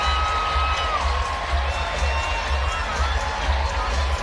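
A basketball arena crowd roars continuously after a buzzer-beater shot, a dense sustained wash of cheering and whooping that holds steady throughout, with no clear announcer voice on top.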